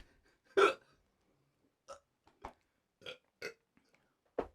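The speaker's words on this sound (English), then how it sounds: "And I got the hiccups now." Hiccups from someone who has just eaten a fiery viper pepper, heard as several short, sharp spasms spaced irregularly over a few seconds, close and fairly quiet with no talking.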